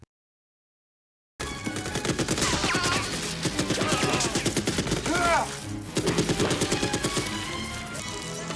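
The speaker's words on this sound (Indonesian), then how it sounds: "mempersenjatai diri dengan senapan mesin yang terpasang di helikopter, menyapu bersih sisa perlawanan." A helicopter-mounted machine gun fires in rapid, sustained bursts of loud, close shots after a second or so of silence, with a brief pause near the middle before the firing resumes.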